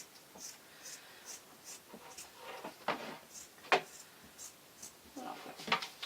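Scissors cut around a fabric pattern for a tablet sleeve, giving soft close snips and rustling cloth with a few sharper metallic clicks from the blades.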